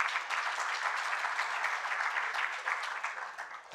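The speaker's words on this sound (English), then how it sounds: "Can we please give him a round of applause?" An audience at a university lifelong-learning event gives a continuous round of applause, dense and somewhat distant, holding steady for several seconds before tapering off.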